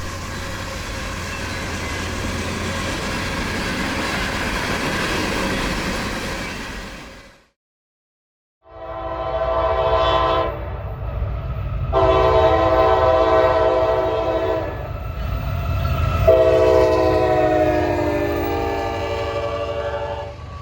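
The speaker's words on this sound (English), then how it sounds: "southbound train IO31 with a fresh batch of Tropicana empties returning from the Kearney, New Jersey facility for Bradenton, Florida" A CSX southbound freight, train IO31 of empty Tropicana intermodal cars through Folkston, Georgia, rumbles past loudly, then sounds its multi-chime horn in several long blasts over the steady roar of the passing cars.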